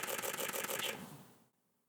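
A Canon R5 II firing a burst at 12 frames per second with the electronic shutter, a rapid, even run of close, crisp mechanical clicks that stops abruptly about halfway through, leaving near silence.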